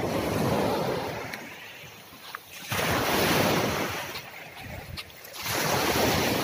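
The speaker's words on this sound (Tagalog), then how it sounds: "Nandito tayo ngayon sa dalampasigan ng dagat." Sea waves break on a Boracay beach shore, with three surges of rushing surf that swell, fade and return, close and loud with some wind buffeting the microphone.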